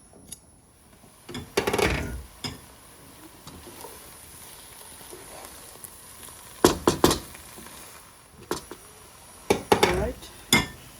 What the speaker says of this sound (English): So we'll put the lid back on and let it cook.